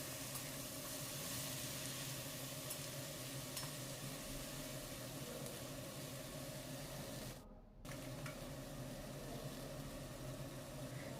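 Spinach stalks being stirred with vegetables in a frying pan, giving a steady soft sizzle and faint scraping that runs throughout, with a brief dip in the noise partway through.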